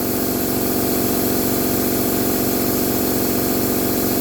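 A new shop air compressor motor runs steadily and loud, a close, constant mechanical whir with a fast pulsing hum and hiss that never changes pitch.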